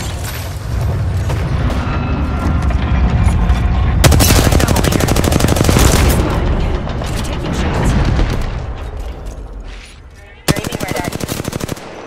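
Heavy video game gunfire aimed at the player pours in as dense rapid bursts that swell and fade, close and loud, ending in a sharp renewed burst, with occasional talk underneath.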